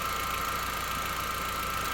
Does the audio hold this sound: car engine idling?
yes